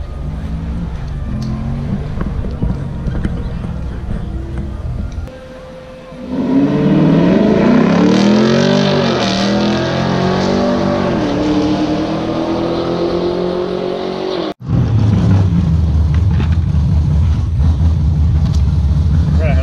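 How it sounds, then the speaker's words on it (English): Burnout from a sixth-generation Chevrolet Camaro SS: loud, sustained engine roar and tire noise lasting several seconds, abruptly cut off, with lower idle rumble and voices before and after. "That's what you call it, John Force burnout."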